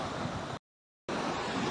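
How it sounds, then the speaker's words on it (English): A small waterfall spills over the weir at Middle Mill, a steady broadband rush of falling water. The rush cuts out briefly to silence partway through and then resumes. "Bit of a waterfall."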